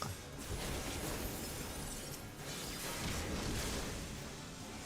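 A sustained burst of shattering and crashing debris in Final Fantasy XIV as a dungeon boss is shattered, dense and noisy, holding steady for several seconds.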